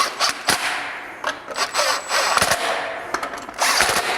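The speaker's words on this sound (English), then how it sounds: "we're just going to go a little bit at a time on these 3 screws" Screws being tightened a little at a time while fitting a Hunterworks primary clutch washer, heard as close, intermittent tool whirs and rubbing bursts in short, uneven spurts with no talking.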